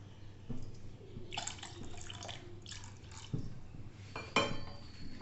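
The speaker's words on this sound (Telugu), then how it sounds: "కొంచెం వాటర్ని యాడ్ చేద్దాము" Water is poured into cooked tomato dal, giving faint dripping and splashing in a pot, with a few louder metallic clinks of a vessel, close and quiet.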